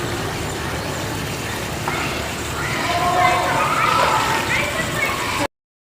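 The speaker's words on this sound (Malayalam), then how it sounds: "നമ്മൾ വെള്ളത്തിലേക്ക് വീഴുക ചെയ്യണത് അപ്പം എടുത്തടിച്ച് വീഴരുത് പതുക്കെ വീഴാനായിട്ട് നോക്കുക ഇതുപോലെ" A person slowly lowers themselves into swimming pool water, producing soft sloshing and gurgling splashes that build midway and continue under a speaking voice before cutting off abruptly.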